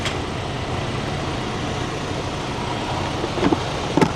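Steady engine drone and road rumble from inside a moving truck, continuous and fairly loud throughout, with a couple of brief knocks or clatters near the end.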